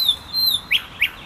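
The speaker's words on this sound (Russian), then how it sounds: "Будем сидеть, отдыхать, наслаждаться пением птиц." Birds chirp and tweet at night in Grozny, Chechnya, with a thin sustained whistle followed by two short, bright chirps, moderately near and clear against quiet surroundings.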